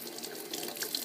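Warm water runs from a tap into a sink while cleaning a clarinet or saxophone mouthpiece, a steady close splashing rush throughout with no voices.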